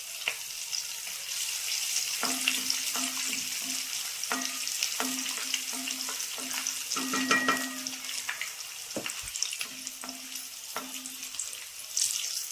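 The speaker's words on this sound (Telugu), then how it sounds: "దీనిలో కచ్చా పచ్చగా దంచుకుని 4-5 ఎల్లిపాయలు వేసేద్దాం." Four or five coarsely crushed garlic cloves frying in a tempering with red chilies for Andhra cucumber dal, a low steady sizzle with repeated short spoon scrapes and taps against the pan.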